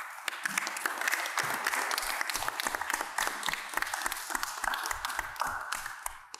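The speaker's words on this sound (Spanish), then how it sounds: "Por favor, un fuerte aplauso a Catherine Quiroz." Audience at a poetry recital during a coffee fair in Turrialba breaks into sustained applause for a poet, crisp claps near and far blending into a steady wash that holds throughout.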